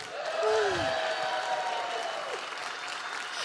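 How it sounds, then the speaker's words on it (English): An audience at an evening church gathering breaks into warm applause with a brief vocal cheer at the start, then the clapping fades gradually. "Round of applause."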